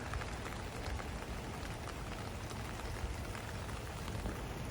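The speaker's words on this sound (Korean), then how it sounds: "비 오는 날" Rain falling at night on a hilltop viewpoint over Salzburg, Austria, a dense steady hiss of drops pattering on surfaces, even and close, with no voices.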